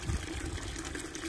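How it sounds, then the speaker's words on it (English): A steady stream of water fills a 5-gallon bucket from an outdoor tap during morning chores, a close, continuous trickling gush without talk. "let me fill this up"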